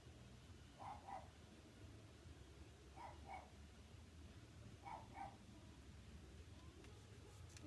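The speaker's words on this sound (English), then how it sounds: "there's my pug barking at airplanes again" Three short pairs of pug barks at airplanes, faint and somewhat distant, spaced a couple of seconds apart over a steady low background rumble.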